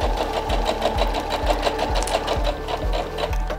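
A sewing machine runs steadily while stitching a face mask seam, its needle knocking in an even rapid rhythm of about two strokes per second over a constant motor whir, close and fairly loud with no talk.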